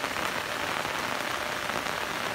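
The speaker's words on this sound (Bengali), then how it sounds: "কন্টিনিউ বৃষ্টি হচ্ছে।" Heavy, continuous rain falls in Dinajpur, Bangladesh, a steady dense hiss of drops hitting surfaces close by, loud and unbroken, with no voices.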